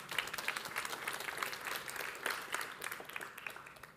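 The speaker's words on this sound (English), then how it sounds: "give yourself an applause for being here today" Audience applause fills a conference talk on the crypto-native economy, a steady wash of many hands clapping at moderate level for the full four seconds with no talk over it.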